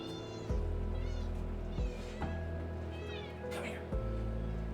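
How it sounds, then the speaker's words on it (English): A domestic cat meows over and over indoors, loud and close, its plaintive rising cries repeating while a person talks over and between them. "Oh, there's a sad meowy cat."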